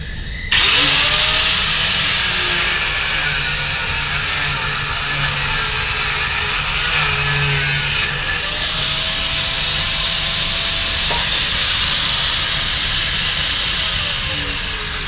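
A power tool cuts metal rods at an outdoor work site, giving a steady, loud, hissing grind that runs nearly the whole clip, with a few rising whines as the blade bites into the steel.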